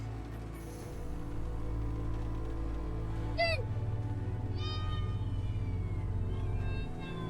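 A cat gives a single sharp meow over a steady low hum of a running engine, followed by faint higher chirping calls, with no talking.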